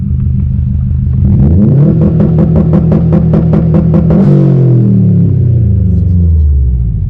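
A Subaru WRX STI launches hard from a launch-control start at about 4,500 RPM. Its engine holds a steady loud rumble, then climbs through one rising rev sweep and shifts into a falling pitch at speed, all close and without talk.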